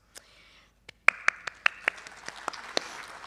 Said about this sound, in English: We can clap. All of these are clap-worthy.